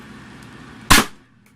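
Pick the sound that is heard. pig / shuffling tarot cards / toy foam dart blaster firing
toy foam dart blaster firing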